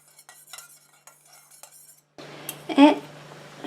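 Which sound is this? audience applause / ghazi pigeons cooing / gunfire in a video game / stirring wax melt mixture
stirring wax melt mixture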